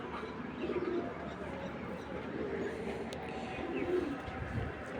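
A racing pigeon coos softly in a loft, low repeated calls faintly heard against a steady background hum; no clear talking.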